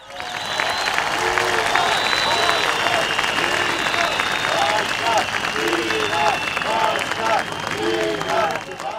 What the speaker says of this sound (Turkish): bugün buradaki Kadim abiye ve buradan ta Silivri'ye bir dayanışma alkışı.